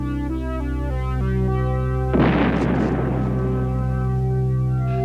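A giant cannon fires in a 1902 Georges Méliès silent film about a spaceship shot to the moon, a single sudden boom bursting over a steady droning musical tone, then fading back into the sustained music.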